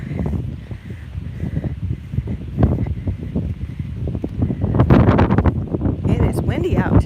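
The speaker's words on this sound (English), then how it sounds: "It is windy out today" Gusty wind buffets the microphone in rumbling waves, growing stronger toward the end, with some rustling underneath.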